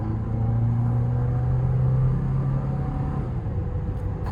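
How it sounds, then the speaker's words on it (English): A 2022 Toyota Tacoma SR pickup with the 2.7-liter engine accelerates, giving a steady low engine rumble that swells slightly and then eases, with no talking. "I'll give it a little bit of an acceleration."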